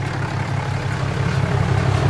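A Dodge diesel truck engine idles steadily with a deep, low rumble, close and continuous, with no one talking.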